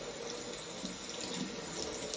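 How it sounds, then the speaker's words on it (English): Tap water runs steadily over washed fresh produce at a kitchen sink, a soft continuous splashing hiss with faint patters, no talk. "I'm gonna rinse that off."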